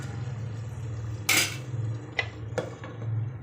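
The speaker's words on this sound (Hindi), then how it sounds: "अब हम स्पून हटा के ये लीड लगा देते हैं" A lid set onto a cooking pot of aloo baingan sabzi simmering on a low flame, heard as a bright metallic clank followed by two lighter clinks, over a steady low hum of the stove.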